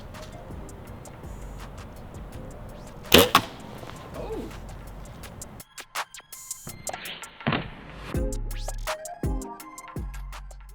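An arrow loosed from a bow and punching through a coconut gives one sharp, loud crack, followed by scraping, ticking handling noises and faint outdoor background.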